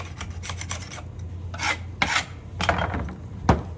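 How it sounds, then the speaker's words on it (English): A tool scrapes caked sawdust and oil buildup off a chainsaw guide bar in a quick series of close, rasping strokes, some sharper and louder than others, with no talking. "You see that there's buildup on the bar of sawdust and oil. You scrape that off."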